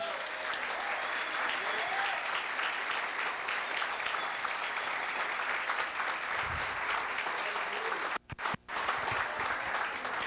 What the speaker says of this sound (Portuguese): dê uma salva de palmas para o Espírito Santo